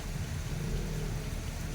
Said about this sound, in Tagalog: walang hangin yung malakas na ulan